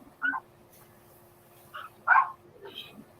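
Barks and yips from Thor, a big, chunky young pet dog, come in a few short separate bursts, fairly near, with quiet gaps between them.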